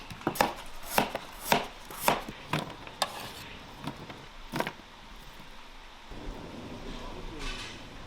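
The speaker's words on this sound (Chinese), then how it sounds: "把土豆啊那些大的给它改一下刀" A knife chops potatoes and other vegetables on a board, with about nine sharp, close strikes in a loose rhythm before the chopping gives way to quieter kitchen noise.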